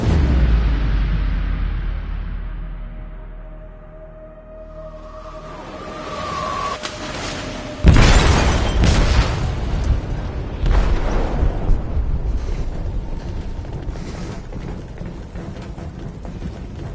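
An explosive detonates in a ship's hold, a sudden heavy boom that breaks through a low rumbling background, followed by a long roaring, crackling rumble that slowly fades.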